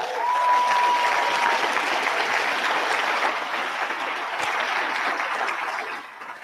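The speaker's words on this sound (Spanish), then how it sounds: "Ahora sí aplaudan." A large seminar crowd claps in sustained, thick applause that stays loud for several seconds before tapering off near the end, with a brief tone audible at the start.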